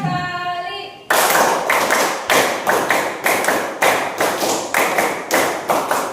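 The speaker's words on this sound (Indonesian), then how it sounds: "Tepuk 5 kali." A classroom group in a teacher training session claps in unison after a brief spoken cue, giving loud, close, rhythmic bursts of hand claps in repeated sets.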